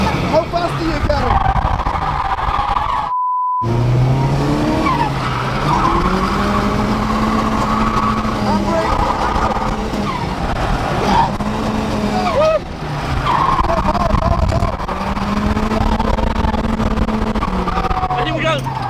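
A Mercedes drifts hard with loud, continuous tire squeal and skidding, engine revving throughout and briefly cutting out, with people talking excitedly over the noise.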